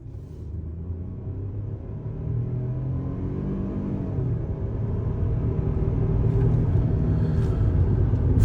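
A Chevrolet Trailblazer with a 1.2 liter three-cylinder engine runs at full throttle in a cheap family car comparison. It gives a steady, loud, low engine drone that rises gradually in pitch and intensity as it accelerates, with no talk over it.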